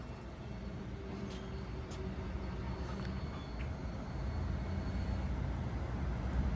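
A southbound Caltrain train pulls into Menlo Park station, a low, steady rumble that grows gradually louder, with faint high squeaks and clanks over it and no voices.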